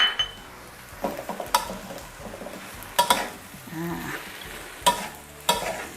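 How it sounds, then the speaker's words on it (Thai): Spatula stirring a glass noodle stir-fry with egg and cabbage in a pan, soft continuous scraping and light sizzle with several sharper metallic clinks against the pan, close and alone. "คนส่วนผสมให้เข้ากันเลยค่ะ"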